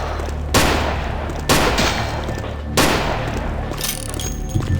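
Gunfire in the video game Vampire the Masquerade Bloodlines: three loud, sharp shots spaced about a second apart, each ringing out briefly, then a fainter fourth burst near the end.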